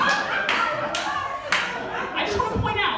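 A lone audience member claps a few sharp, scattered times in a small comedy club during a stand-up set, with room noise and murmuring around the claps.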